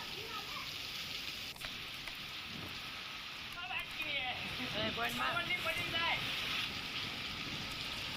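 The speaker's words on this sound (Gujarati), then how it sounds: "ભારે પવન સાથે વરસાદ છે ને વરસાદથી વાતાવરણમાં ઠંડક પણ થઈ છે" Rain driven by strong wind in Jesar taluka, Bhavnagar, Gujarat: a steady hissing downpour that holds for the whole stretch, with a faint voice briefly audible midway.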